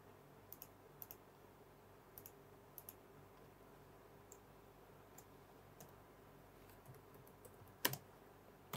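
Keys tapped on a computer keyboard while a file is named in a word processor, a few scattered soft clicks over a steady low room hum, faint and close, with one louder clatter near the end.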